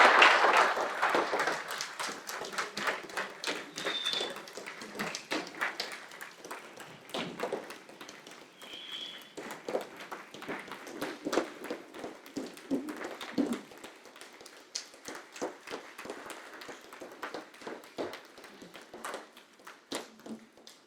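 Audience at a Unitarian church in Peoria applauds the Coming of Age Class of 2025, a strong burst of clapping that dwindles into scattered, uneven claps over twenty seconds in a reverberant hall.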